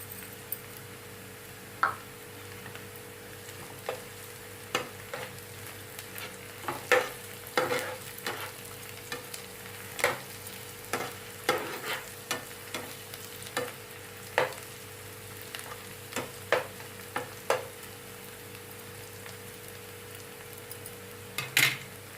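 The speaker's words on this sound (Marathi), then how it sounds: "ह्यामध्ये घालते अद्रक लसणाची पेस्ट" Ginger garlic paste fries in a pan for palak chicken. A steady sizzle runs throughout, broken by repeated scraping and clinking strokes of a spoon as it is stirred.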